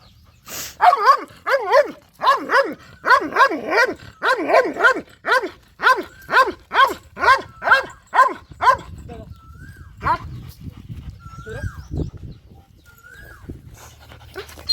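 Pet dogs confronting a cobra bark in a rapid, rhythmic series of loud yelps close by, then the barking breaks off into scattered whines and panting.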